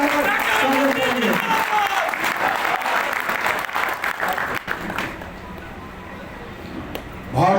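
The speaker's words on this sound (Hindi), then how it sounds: "एक बार जोरदार तालियां बजाकर स्वागत करेंगे" A crowd at a BJP political gathering in Chhattisgarh claps loudly to welcome Dr. Raman Singh. The dense applause runs with crowd voices mixed in, then thins and fades toward the end before a final swell.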